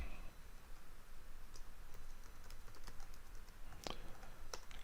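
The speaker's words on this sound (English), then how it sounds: "typing." Typing on a computer keyboard, soft and close, with scattered quick key clicks and a few sharper taps over a low background hiss.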